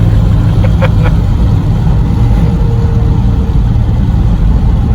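A 403 Oldsmobile V8 with a Rochester Quadrajet carburetor runs steadily while driving, its loud, constant engine drone heard up close from inside the car.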